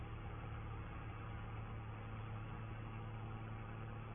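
A large Case tractor engine runs at a steady, low, continuous drone while drilling rapeseed on a farm field, heard from inside or close to the cab with no other sounds and no speech.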